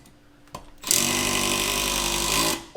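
A Milwaukee M12 Surge hydraulic impact driver drives a screw in one sustained, loud burst of about a second and a half, preceded by a couple of faint clicks and ending abruptly.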